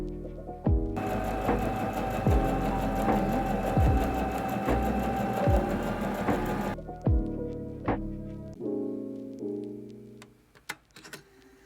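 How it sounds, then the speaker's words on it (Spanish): A Brother BM3850 domestic sewing machine stitching fabric runs in a steady whirring, rhythmic needle chatter for several seconds, then stops, followed by a few short start-and-stop bursts and light clicks close by. "Nuevamente bajas la palanca del pie de prensa tela y empiezas a coser."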